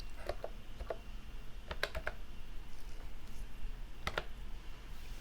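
Soft keys tap on a computer keyboard as a file name is typed, a few quick clusters of light clicks separated by pauses, close and quiet.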